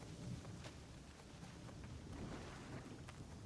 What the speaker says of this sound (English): You can hear the thunder.